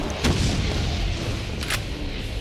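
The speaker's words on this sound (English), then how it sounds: "These bullets are really fast." Rapid gunfire in the first-person shooter Brutal Doom Project Brutality, sharp shots cracking over a dense, continuous roar of game combat noise, fairly loud throughout with a couple of brighter bursts.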